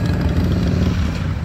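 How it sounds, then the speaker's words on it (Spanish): A motorcycle engine rumbles nearby with a steady low throb, fairly loud, in a short burst with no talking. "Ahí va la moto."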